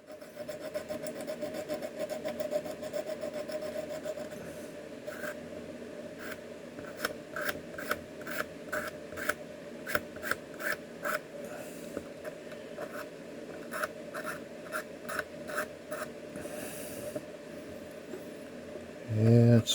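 An abrasive is rubbed back and forth against a seam, giving a run of rhythmic rasping strokes, each a short scratchy burst repeated at an even pace, fairly close and moderately quiet, with a duller rubbing texture at first.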